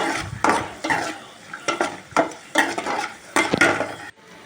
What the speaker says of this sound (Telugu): అదే గిన్నెలో సేమియా పోసుకొని సేమియాను కూడా ఎర్రగా వేయించుకోవాలి